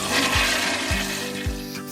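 Toilet bowl flushing, a loud close rush of water with repeated surging pulses as the bowl empties, continuous and unaccompanied by talk.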